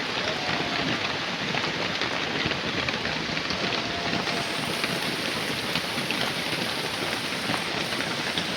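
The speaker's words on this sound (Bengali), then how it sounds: "এই বৃষ্টির সাথে কতক্ষণ এভাবে যুদ্ধ করে টিকিয়ে থাকা যায়" Heavy, constant rain pours down in a dense, even roar of drops, loud and unbroken throughout, with no talking.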